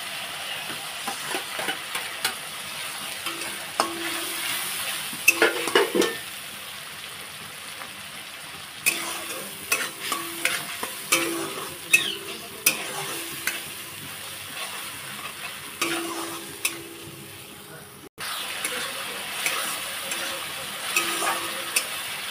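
Garlic, ginger, tomato paste and onion paste frying in a pan, a steady sizzle broken by repeated stirring scrapes and clinks, with a low hum underneath and a brief pause midway.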